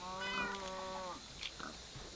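Cats in a cat sanctuary in a blocky Minecraft-like video game give a drawn-out, clearly pitched meow, then a couple of short fainter mews, quiet and alone with no speech.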